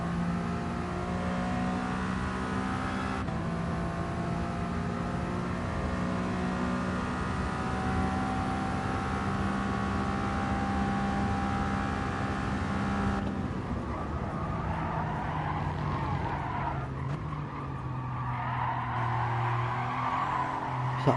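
A race car in the Gran Turismo Sport video game during a time trial, its engine droning steadily with shifting pitch and tires skidding and squealing through corners, loud and continuous with no talking.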